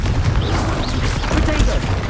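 A Confringo blasting curse explodes in the video game Hogwarts Legacy. It makes a dense, loud, rumbling boom that lasts throughout, with a voice speaking over it.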